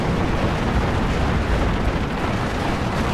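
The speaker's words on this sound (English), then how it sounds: "Where's that artillery coming from?" Artillery in the Steel Division 2 wargame makes a continuous, heavy rumble of explosions and booms, dense and loud throughout with no clear gaps between impacts.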